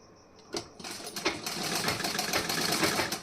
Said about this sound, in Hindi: अब यहाँ पे भी आपको ऐसे उल्टा करके यहाँ पे सिलाई लगानी है।